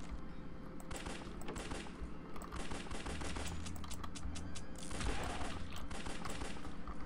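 Dual pistols fire in the top-down shooter Larva Mortus, with rapid bursts of sharp shots in quick succession and brief gaps between volleys, loud and up close, and no talking over them.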